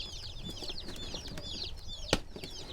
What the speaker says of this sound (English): They are chirping away.